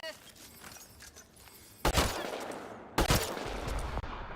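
Gunfire in Mass Effect: Andromeda, with two loud, close bursts of rapid shots about a second apart, each ringing out over a busy background of combat noise.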